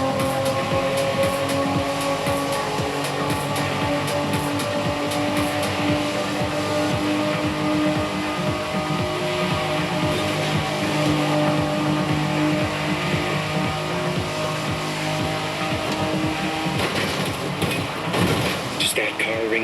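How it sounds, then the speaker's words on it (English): A Liberty Walk 1992 Honda NSX in a racing game drives at speed, its engine a loud, continuous drone with sustained tonal harmonics and road noise throughout. "This is the Liberty Walk version of the 92 Honda NSX."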